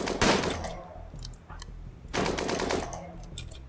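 Gunfire rattles at a pikeman mech in RimWorld, in two rapid, loud bursts of shots separated by a short pause, with quieter pops trailing between them.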